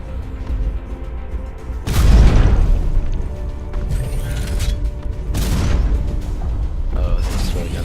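A mech in the shooter game Hawken fires, giving two heavy booming shots a few seconds apart over a constant mechanical engine rumble, loud and close.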